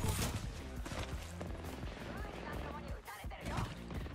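Gunfire in the Apex Legends video game during a ranked match, a dense, continuous clatter of shots and impacts layered over game sound and occasional voices.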